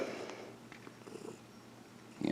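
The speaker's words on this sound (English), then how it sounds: "the cat purring as well" A cat purrs close by in a steady, soft, low rumble that continues throughout, with a brief louder rustle at the very end.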